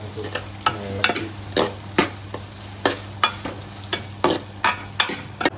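Chopped ginger and garlic sizzle in a hot pan for liver curry while a spoon stirs and scrapes in repeated, close strokes over a soft, constant frying hiss.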